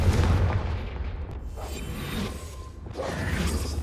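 Confringo fire spell cast in Hogwarts Legacy: a loud, dense whooshing blast with rumbling low end, swelling in bursts and fading, followed by another rushing surge, with no voices.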